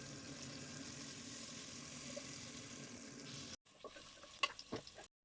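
Onion, garlic and green chilli frying in hot soybean oil, a steady close sizzle that stops abruptly, followed by quieter stirring clinks and scrapes in the pan.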